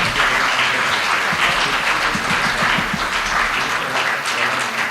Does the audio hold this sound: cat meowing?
no